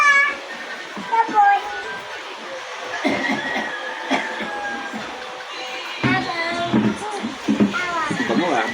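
A cat meows repeatedly while being bathed with shampoo, the high wavering cries rising above splashing and handling noise, with people talking close by throughout.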